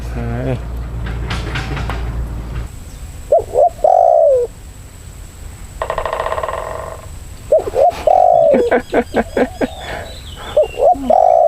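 Rhythmic dove coos in short bursts, with a spotted dove heard among birds, loud and close, after a low rumbling start, with a buzzing insect-like trill in the middle.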